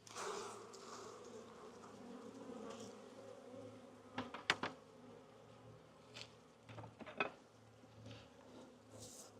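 Honey bees buzz steadily around an opened hive during honey harvesting, a low continuous hum with a few sharper knocks and clicks of handling near the end.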